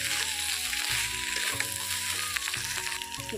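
Pointed gourd sizzles in a pan with mustard and spices, a steady bright frying hiss with intermittent scraping and clinking as the pieces are stirred, close and moderately loud.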